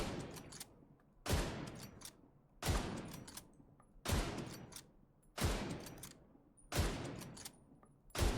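An M1A rifle fires in the shooter game The Division 2, with six single heavy shots spaced about every 1.4 seconds, each trailing off in a long echoing decay, fairly distant and quiet.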